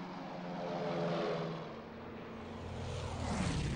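A propeller aircraft drones steadily overhead at a distance, faint and unbroken, swelling slightly toward the end, with no voices.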